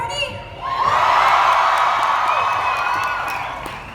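A large audience at an Emerald City Comic Con Doctor Who panel with David Tennant and Billie Piper bursts into loud, sustained cheering and whooping that swells quickly, holds for several seconds and slowly eases off.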